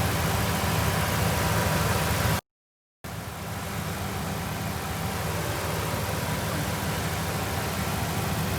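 A car's air conditioning compressor running during an AC gauge check, heard as a steady close mechanical hum with engine idle, broken once by a brief dropout.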